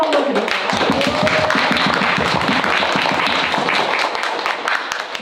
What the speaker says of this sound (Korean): 큰 박수를 한번 드릴게요